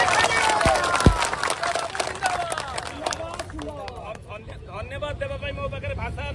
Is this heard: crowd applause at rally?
yes